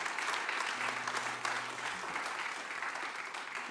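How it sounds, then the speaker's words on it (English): An audience at a live music show applauds steadily, dense clapping that stays fairly faint and even throughout the short stretch. "So huge round of applause to Arts and the Bez Arts Hub."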